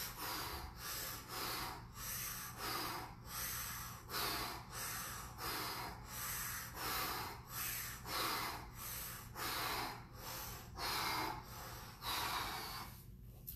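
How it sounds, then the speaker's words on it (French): A person breathes in and out through the mouth during a penguin-themed movement exercise, with about a dozen close, loud, regular breaths in a steady rhythm and nothing else around them. "Puis on respire par la bouche."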